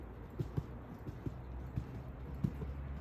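Horse hooves trot in a dressage test arena, giving a faint, steady clip-clop of soft thuds under a quiet background hum, with no talking.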